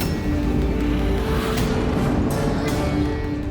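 A car drives past at close range, a loud steady roar of engine and tyre noise that fills the whole moment without pause.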